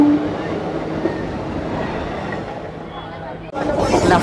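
Maharashtra Express running near Tumsar Road junction between Gondia and Nagpur, a steady loud rumble of wheels and carriage noise throughout, with a brief drop and a brighter, rushing surge near the end.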